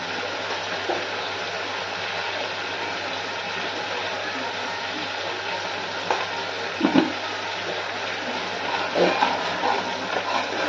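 Turmeric and salt fry in a pan with a steady, broadband sizzle that continues throughout, joined near the end by light stirring clatter.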